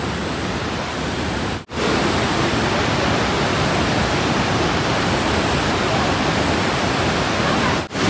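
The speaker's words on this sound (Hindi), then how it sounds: "यहाँ पे तो और ख़तरनाक वाटरफॉल देखने को मिला भाई, काफ़ी ब्यूटीफुल है" A roaring mountain waterfall near a bridge on the Valley of Flowers trek gives a loud, dense, unbroken rush of water up close, cut by two brief dropouts.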